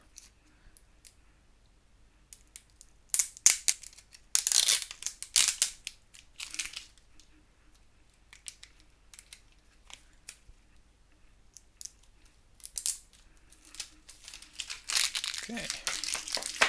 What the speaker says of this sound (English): let's take this peel off